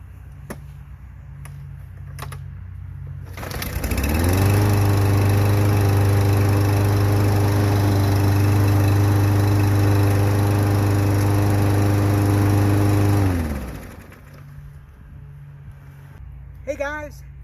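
A Husqvarna 5521P push mower, a 550EX big-wheel model, starts up and its small engine runs at a steady, loud, droning pitch for about ten seconds before cutting off. Quieter sounds can be heard before and after the engine runs.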